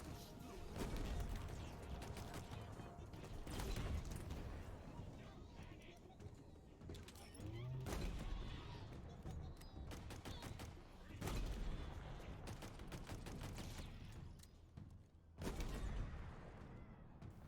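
Heavy gunfire and bursts from a tank gun in Halo Infinite, clearing enemies around a helipad, with repeated loud booming shots and rattling volleys mixed with battle noise and chatter.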